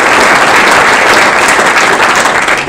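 Conference audience at a logistics congress gives loud, sustained applause, dense continuous clapping from a large hall crowd, close and full.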